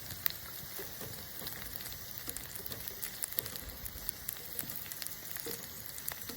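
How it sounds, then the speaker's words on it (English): Food frying in a pan over an open fire on a grid holder, a faint, steady crackling sizzle with scattered pops and no voices. "So let's just let them simmer away and fry on the other side."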